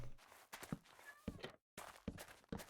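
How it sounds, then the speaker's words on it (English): Video game character footsteps on dirt, a series of fairly loud, crunchy steps at an uneven walking pace, with a brief silent gap partway through. "to turn Present's footsteps down just a little bit"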